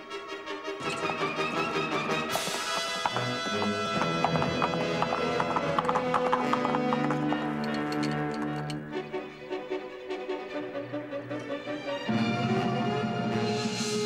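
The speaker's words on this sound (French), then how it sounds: "En avant, Jolie, au galop" Steady clip-clop of a galloping horse in a Lucky Luke cartoon Western, a continuous rhythmic hoof pattern carried under loud orchestral music throughout.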